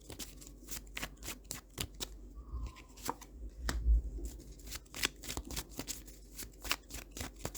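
Tarot cards are shuffled and drawn close up, with quick riffling flicks and slaps in an uneven rhythm, some louder handling thumps, and a quiet background.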